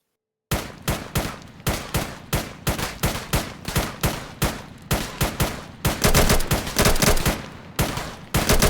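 Rapid bursts of gunfire during a military-style basic training drill, loud and close, a steady run of sharp shots about every third of a second that thickens into a denser volley near the end, with no talk over it.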